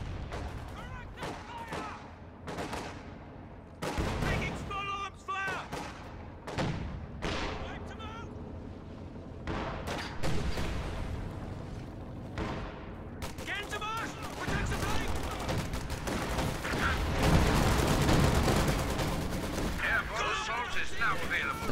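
Tank cannon and support gun fire in a WWII strategy video game, with repeated booming shots and crackling gunfire in bursts throughout, under continuous commentator talk.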